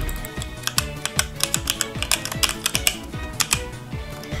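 Brisk typing on a HyperX Alloy Origins gaming keyboard: a close, steady stream of crisp key clacks with sharp individual strokes and no voices over them.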